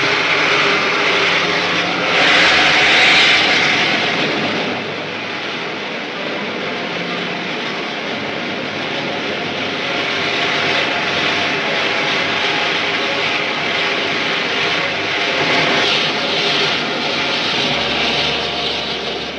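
An aircraft taking off in an old science-fiction serial, a loud, continuous engine roar with a broad rushing hiss that swells slightly near the start and holds steady throughout, with no voices.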